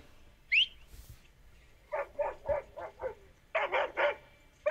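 A dog in a scene from The Last of Us TV series gives a high yelp, then a run of repeated barks in uneven bursts, fairly close and loud over a quiet background.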